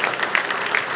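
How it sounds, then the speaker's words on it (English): A church congregation claps in steady, dense applause throughout, a full room of hands close and even with no voices on top. "They really do deserve that applause, and I think you'll be clapping several more times today."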